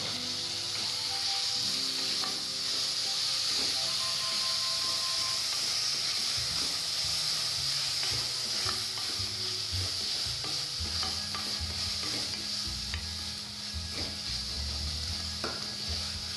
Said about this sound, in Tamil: எல்லாம் நல்லா வதங்கிருச்சு